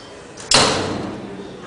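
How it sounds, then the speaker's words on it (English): A hotel door at a Homewood Suites being opened, a sudden loud whoosh and thud about halfway through that fades into a lingering rush of air. "I'm gonna open the door and make sure we don't slam it this time"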